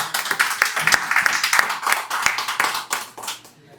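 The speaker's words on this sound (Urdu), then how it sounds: "بہت زوردار تالیاں ان کے لیے." Enthusiastic audience applause at an Urdu poetry mushaira in Qatar, dense steady clapping from a crowd filling the hall before tapering off near the end.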